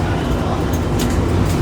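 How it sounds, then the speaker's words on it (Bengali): Steady, loud, low rumble and hum inside a bullet train in China, continuous and unbroken for the whole stretch, with faint higher noise on top. "আমরা বুলেট ট্রেনে যাচ্ছি"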